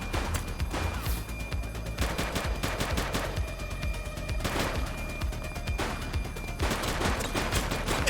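Dense gunfire rages in The Precinct, a police game, with overlapping bursts of rapid shots and crashing impacts running continuously at steady loudness.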